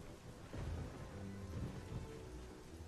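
Thunder and rain in the Fable video game, a low rumbling roll over a steady hiss of rainfall, moderately quiet with swells of thunder.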